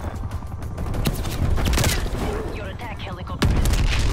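Enemy gunfire in Call of Duty: Black Ops Cold War, heard as rapid bursts of shots cracking loudly and repeatedly over rumbling game noise, with a heavy blast near the end.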